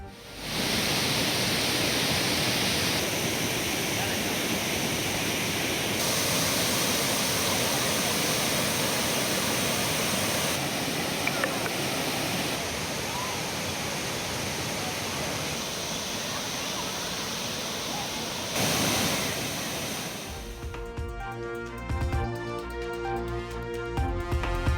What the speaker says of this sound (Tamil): குமரி மாவட்டம் திருப்பரப்பு அருவியில் தண்ணீர் ஆக்ரோஷமாக கொட்டுவதால்